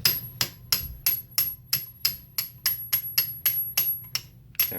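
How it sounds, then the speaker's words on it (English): Smaller metal punch tapped with a hammer to drive out an AR-15 hammer pin, about fourteen sharp, close metallic taps in a steady, even rhythm. "Then what I usually do is I take a smaller punch to finish it off"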